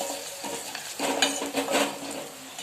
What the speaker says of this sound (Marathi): आता त्यात हिंग टाकते, अर्धा चमचा हळद. हे पण छान परतून घेते